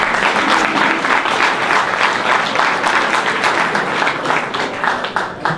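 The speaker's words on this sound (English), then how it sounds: "Ladies and gentlemen, a round of applause." Sustained applause from a conference audience at an inaugural conference, dense steady clapping filling the whole stretch without pause, loud and close, with no speech over it.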